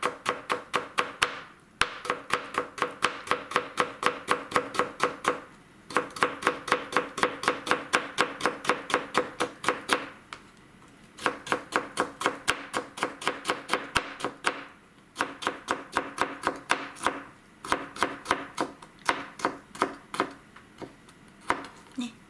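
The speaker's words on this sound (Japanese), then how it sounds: "きゅうりはできる限り細く切ってあげた方が美味しく感じます" Knife slicing half a cucumber into thin julienne strips on a cutting board, a long run of fast, even chops broken by a few short pauses, close and crisp.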